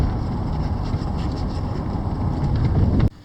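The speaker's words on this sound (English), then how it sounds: "Of course the wind blowing 90 miles an hour." Strong wind gusting over an open lake while out by boat near the trestles on Lake Pontchartrain, a steady roaring rush buffeting the microphone at close range for about three seconds before cutting off abruptly.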